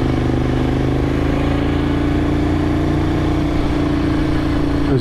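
Moto Guzzi Griso motorcycle engine running steadily while riding on the Macquarie Pass road, a loud, close, continuous low drone with a constant tone throughout and no speech.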